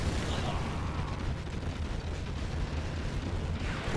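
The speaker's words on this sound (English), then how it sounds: "Unloading rockets." Rocket strikes exploding in the C&C Generals Zero Hour skirmish game, a dense, continuous roar of blasts with heavy low rumble, sustained and loud throughout with no clear gaps.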